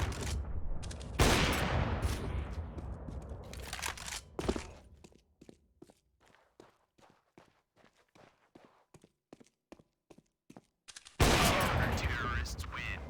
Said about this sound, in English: Nice shot, Sapphiros.